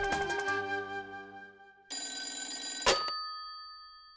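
A telephone rings with bright electronic tones, first a rapid chiming burst that fades, then after a short pause a second sustained ring that cuts off abruptly and leaves a lingering decay.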